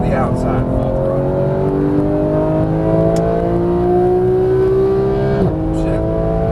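Porsche 911 GT3 991 flat-six at full throttle on a track, a loud sustained engine note climbing steadily in pitch before a shift, recorded from inside the car.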